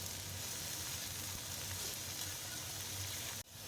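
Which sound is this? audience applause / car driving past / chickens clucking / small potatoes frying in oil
small potatoes frying in oil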